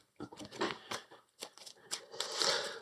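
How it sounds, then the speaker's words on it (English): Playing cards for the board game Earthborne Rangers are shuffled by hand, a series of close papery riffles and flicks in short irregular bursts, with no talk. "These get shuffled."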